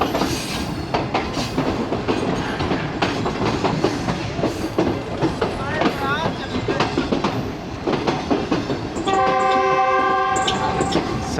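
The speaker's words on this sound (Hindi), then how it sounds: "कसूर की तरफ जाने वाली फरीद एक्सप्रेस भी जिस प्लेटफॉर्म पे लगती है ये भी उधर ही लगने जा रही है" Passenger train on the Lahore–Kasur–Pakpattan line pulling into a station platform, a continuous rumble with clickety-clack and squealing wheels, then a sustained horn near the end.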